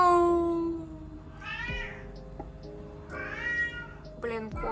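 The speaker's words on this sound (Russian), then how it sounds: "Блин, кот." A house cat meows several times, drawn-out rising and falling cries spaced through the stretch over a low steady background hum in an indoor home.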